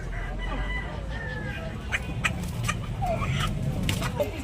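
A gamecock rooster for sale at a Tabunok market clucks and calls in short, rising bursts over a steady, noisy crowd murmur, with people talking nearby.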